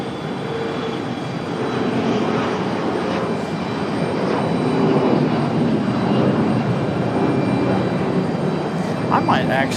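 Airplane taking off at Raleigh Durham airport, a broad jet engine roar building steadily and staying loud and distant-to-mid range, with someone talking over it throughout.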